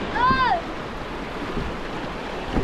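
Strong floodwater current rushes in a steady, close, broadband roar, with a brief whistling tone near the start.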